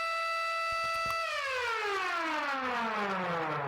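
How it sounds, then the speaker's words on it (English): A loud, steady electronic siren in the Factory IO simulation game drones with rich harmonics, then its pitch slides gradually downward as it winds down. "So let's just turn that siren off."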